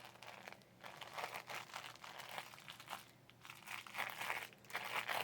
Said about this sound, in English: The first thing that I grab is my crinkle sheet.